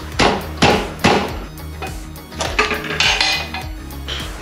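Sharp metallic knocks strike the engine cover of an AJP PR7 motorcycle during engine teardown, a few loud hits followed by quicker lighter taps with a ringing metal tone.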